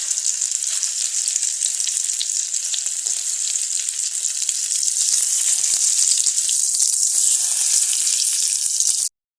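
Chicken shami kababs fry in hot oil in a pan, a loud, continuous bright sizzle that holds steady and grows slightly stronger toward the end, with no talking.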